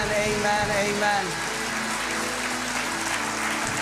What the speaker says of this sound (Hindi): Come on, give a clap offering to the Lord.